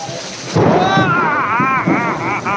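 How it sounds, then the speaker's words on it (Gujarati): A loud crack of thunder breaks in and rumbles on over a heavy downpour in Jam Khambhalia, the rain roaring steadily close by. "જોરદાર વરસાદ પડે છે"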